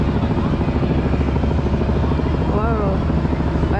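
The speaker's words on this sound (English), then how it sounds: "here comes a catastrophe of boats and jet skis." Jet skis and boats pass by the Statue of Liberty on a July 4th weekend, a loud, steady engine drone with a rising and falling whine as one goes past, while people talk nearby.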